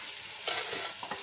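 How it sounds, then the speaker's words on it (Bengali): Onion, garlic and green chilies frying in oil for greens, a hissing sizzle with bursts of stirring in the pan, close and alone. "আমি পেঁয়াজ রসুন আর হচ্ছে কাঁচামরিচ আমি দিয়ে একটু ভেজে নিচ্ছি"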